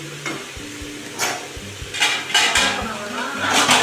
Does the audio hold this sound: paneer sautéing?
yes